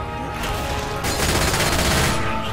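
Rapid machine gun fire in a video game, a dense loud stream of shots that builds into a steady rattling burst amid other game noise.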